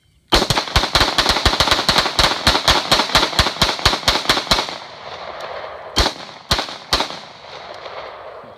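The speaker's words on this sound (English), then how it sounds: "got the Glock 23, 40 caliber. We got the Glock 17," A Glock 23 .40 caliber and a Glock 17 9mm pistol, fired together in both hands, give a loud, rapid string of about twenty close gunshots. After a short pause, three more separate shots follow.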